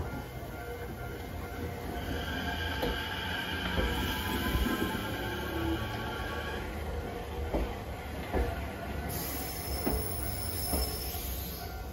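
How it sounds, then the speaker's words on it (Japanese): Tokyo Metro Hibiya Line train passing very slowly through a station at night, a steady rolling rumble with faint rhythmic wheel clicks and a thin high whine, no voices. "そして列車は非常にこうゆっくりゆっくりとなんと通過をしていきました。"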